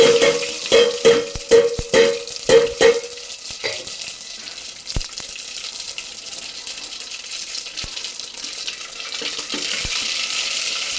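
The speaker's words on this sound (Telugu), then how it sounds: "తాలింపు వేసేద్దాం." Mustard seeds, cumin and dried chilies hit hot oil for a tempering, giving a burst of crackling sizzle and popping in the first few seconds that settles into a quieter, steady frying hiss.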